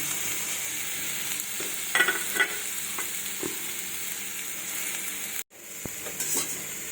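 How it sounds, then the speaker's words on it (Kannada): Ginger garlic paste and crushed kasuri methi fry in oil in a pan, giving a steady close sizzle with a few stirring scrapes and a brief break near the end, with no talking. "ಇದನ್ನೆಲ್ಲ ಸೇರಿಸಿ ಸ್ವಲ್ಪ ಫ್ರೈ ಮಾಡೋಣ"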